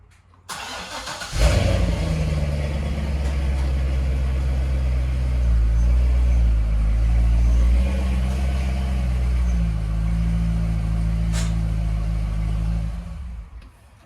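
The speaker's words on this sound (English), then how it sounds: "if we take this back up and we drive up on these ramps" A Chevrolet Corvette C5/C6/C7 rolls forward onto car ramps with a close, loud engine rumble that swells as it climbs, holds steady, then cuts off near the end.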